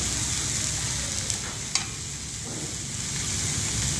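Ingredients fry in a pan until translucent, a dense continuous close sizzle with a few brief stirring clicks.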